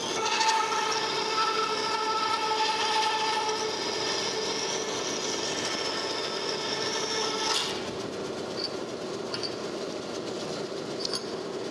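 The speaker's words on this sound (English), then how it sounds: "One bandsaw up and going" A restored 1940 DoAll V-26 vertical band saw cuts a radius with a steady grinding, whining rasp under a mechanical hum; the cutting stops near the end, leaving the motor running with a few light clicks, no voices.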